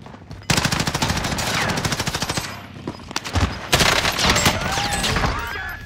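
Automatic gunfire from the Call of Duty video game, rapid bursts of loud shots repeating densely across most of the clip with short pauses, plus scattered game effects.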